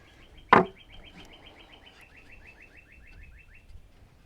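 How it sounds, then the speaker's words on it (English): A sharp knock rings out during wood framing of a small cabin, then a bird trills a rapid, repeating series of chirps at moderate distance over quiet background. "Birds sound pretty."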